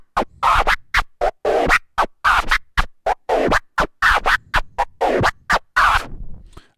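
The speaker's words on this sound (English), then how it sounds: "he produced seven sounds by playing the Stair scratch, and we can see now the slow-mo performance" Turntable Stair scratch performed in slow motion, a rapid series of short chopped record-scratch bursts with sharp on-off cuts and rising-falling sweeps, loud and close, about fourteen strokes alone.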